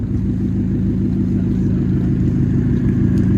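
A 2016 Ford Fusion SE with the I4 engine, fitted with a Cherry Bomb glass pack exhaust, idles nearby with a loud, deep, steady rumble that holds throughout, with no talking.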